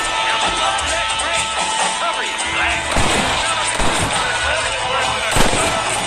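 Gunfire in Red Dead Redemption on PC cracks out in a steady shootout, with sharper, louder shots standing out now and then. Voices talk over the gunfire.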